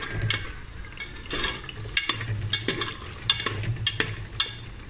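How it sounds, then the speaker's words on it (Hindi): Half a kilo of minced mutton keema fries in a pan while a spoon stirs and scrapes it, making an ongoing sizzle broken by regular clanks and scraping strokes, close and fairly loud. "अब हम इसको अच्छे से भून लेंगे"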